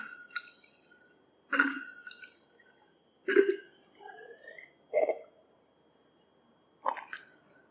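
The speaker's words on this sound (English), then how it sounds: "I am using a wash bottle." A plastic wash bottle squirts distilled water into a volumetric flask in a lab, giving five separate short gurgling, splashing squirts spaced a second or two apart, close and quiet with near silence between them.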